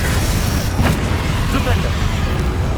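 Confringo fire-spell blast in the Hogwarts Legacy video game, a deep rolling boom that sustains as a low rumble, with a voice speaking over it.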